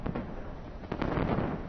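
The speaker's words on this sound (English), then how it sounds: "This is Dove fireworks." Dove-shaped fireworks are set off over water during a display, producing a close run of overlapping bangs and crackling booms.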